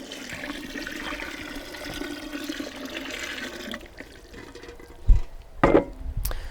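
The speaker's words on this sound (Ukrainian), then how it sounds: "І додаємо 10 літрів води." About ten litres of water pour steadily into homemade fruit wine must, a continuous splashing rush that thins out and ends with a few gurgles and drips.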